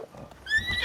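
A horse in Breath of the Wild gives a brief, high whinny that rises near the end of a short moment, loud and close after a few soft game noises.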